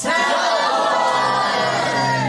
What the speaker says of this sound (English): We all yell.